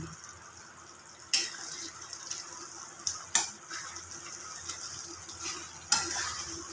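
A spatula stirs chicken curry in a pan, with several sharp scraping strokes over a soft simmering sizzle, close by and fairly loud.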